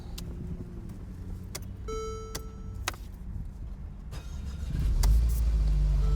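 An Infiniti QX30 engine starting after a transmission fluid service, with clicks and a brief tonal chime before the engine catches near the end and settles into a steady, loud low idle rumble.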